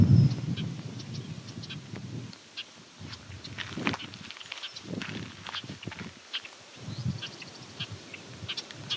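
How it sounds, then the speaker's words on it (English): A Savannah Sparrow sings thin, high buzzy phrases on open farmland flats where meadowlarks and bobolinks are also around, faint and distant over low rumbling ground noise and occasional footstep-like thuds. "Savannah Sparrow."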